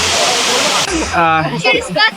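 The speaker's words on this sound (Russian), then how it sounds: "Вот такой водопад." Tropical waterfall on Samui, Thailand: a loud steady rushing roar of falling water for the first part, then cut off as a voice speaks over quieter surroundings.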